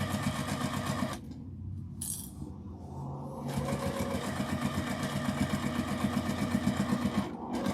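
A sewing machine stitches a tote bag with burgundy Gutermann upholstery thread, a near, rhythmic mechanical chatter that pauses briefly and then runs on steadily.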